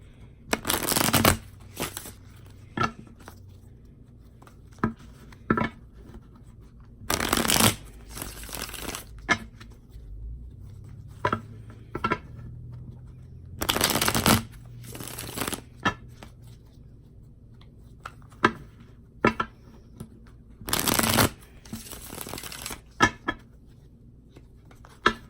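Playing cards are riffle-shuffled in several quick bursts, each a brief rapid flutter, separated by quieter shuffling and handling noises.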